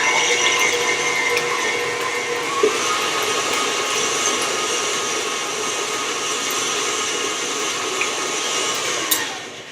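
Loud continuous whirring drone of an electric mixer spinning chocolate chip cookie dough ingredients, steady throughout with a couple of faint knocks and no voices.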